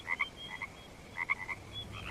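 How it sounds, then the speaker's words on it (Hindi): Frogs croak outside at night after rain, faint and distant, in short clustered bursts of chirping calls that come in two groups separated by a quiet pause, over a low background hush. "बाहर से मेंढकों की आवाज आ रही है"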